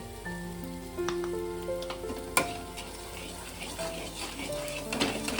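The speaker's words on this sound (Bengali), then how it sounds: "ভালো করে মশলাটাকে আমি কষিয়ে নেব" Spice paste with cumin powder and salt sizzles in a pan, cooked down for a hilsa fish head and taro stolon curry. A continuous close frying hiss is broken by stirring scrapes and one sharp utensil knock, with faint tonal sounds in the background.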